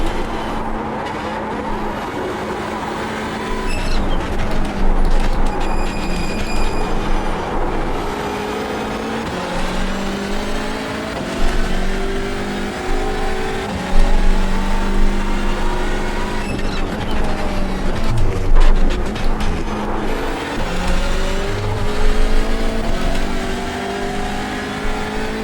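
Hyundai Elantra race cars roaring around Oulton Park in iRacing: a dense, continuous snarl of several engines revving up and down through gear changes, loud and close, with other cars whining past throughout.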